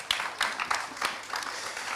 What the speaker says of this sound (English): giving them all a massive round of applause